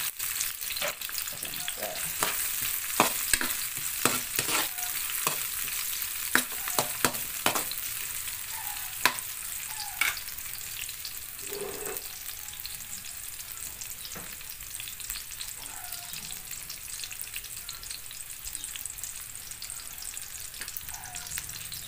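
Garlic and onion sauté in a pan for ginisang monggo, a continuous moderate sizzle with frequent stirring clicks and scrapes, busier at first, and no voices.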